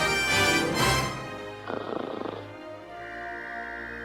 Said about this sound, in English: And that's the sound of Cheep Cheep snoring.